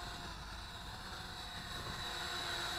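Le Idea Idea8 folding selfie drone in flight after an automatic takeoff, a faint, steady propeller whine with a thin high tone holding throughout.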